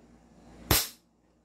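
A gas blowback airsoft pistol fires one sharp, close crack over a chronograph, standing alone in a quiet space and decaying quickly.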